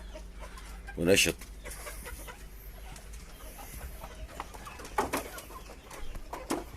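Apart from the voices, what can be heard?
chickens and roosters clucking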